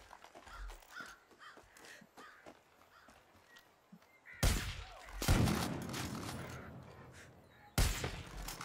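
Gunfire in the Far Cry 5 video game: after a quieter stretch with crow caws, a loud burst of rapid shots erupts and rolls on, then a second sharp burst follows.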